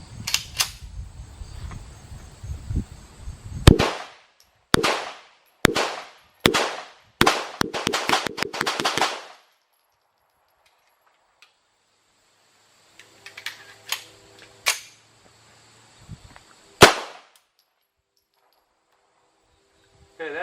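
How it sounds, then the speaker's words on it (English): Gunfire from a Tisas BR9 9mm pistol during a 1000-round endurance test, with a rapid string of loud, sharp cracks followed after a pause by several scattered, quieter shots and one final loud report. "I'm going to shoot a few magazines"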